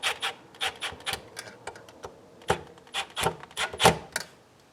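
A screw terminal is tightened while installing a 240-volt EV charger outlet, a series of short close scraping and rubbing clicks from a screwdriver turning in irregular bursts, faint and alone without speech.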